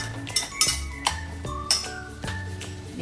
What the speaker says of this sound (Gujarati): પછી બધું મિક્સ કરી લઈએ